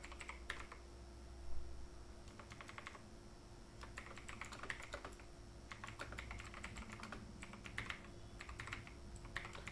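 Fast, steady typing on a computer keyboard, a dense run of light key clicks in bursts with short pauses, close and fairly quiet over a faint constant hum.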